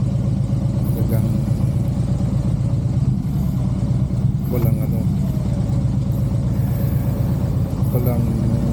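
Dense night traffic around a rider on a motorcycle, heavy congestion near a Christmas tree grand opening: a steady loud wash of idling and creeping engines with continuous rumble, while someone talks over it.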